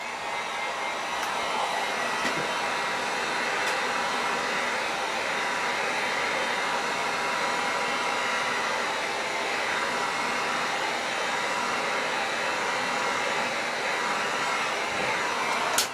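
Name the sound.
drying paint on a model mask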